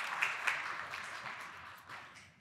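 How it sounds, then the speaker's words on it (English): A church congregation applauds. The clapping is faint and distant, a soft, dense patter that swells briefly and then tapers off over a couple of seconds. "Can we give them a round of applause there?"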